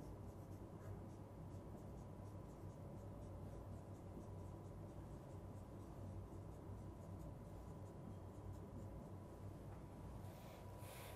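Someone writes on a board during a lecture on regular expressions, with faint, steady, repetitive scratching strokes over a low background hiss and no speech.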